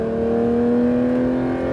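A Porsche GT3 accelerates on a racetrack, its engine holding a loud, steady, close-up tone with strong sustained harmonics throughout.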